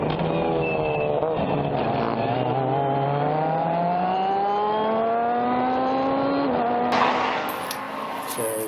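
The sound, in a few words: race car engine on track at Laguna Seca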